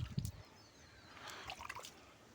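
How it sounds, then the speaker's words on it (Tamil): Water is sprinkled by hand onto a piece of cardboard used as a plate for clay modelling, giving light drips and patters after a short low thump at the start, quiet and close. "ஒரு பிளேட் மாதிரி ஒரு அட்டையில் இந்த தண்ணியை தெளிச்சுக்கிறேன்"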